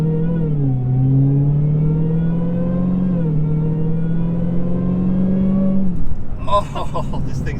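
A 2022 Dodge Challenger Hellcat Redeye engine pulls hard under acceleration, a loud, steady rising drone with two gear shifts, heard from inside the car, then breaking off as a voice speaks.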